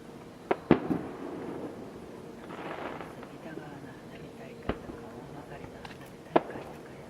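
Fireworks at a summer festival on Kasado Island, Japan: several sharp bangs ring out at irregular intervals, with a crackling burst in between, all fairly distant amid background murmur and voices.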